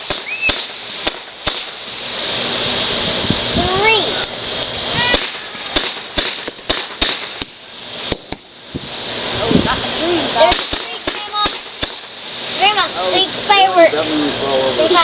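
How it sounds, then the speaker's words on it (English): Fireworks at a nighttime display go off in repeated sharp cracks and crackling bursts, with whistling rockets rising throughout. People talk and call out close by. "Fireworks."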